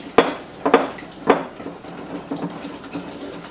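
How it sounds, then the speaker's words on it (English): Chocolate peanut butter brownie batter being mixed in a bowl, a few distinct knocks of the utensil against the bowl followed by softer scraping strokes, close and moderately loud, no voices. "we'll mix this together until they're well combined"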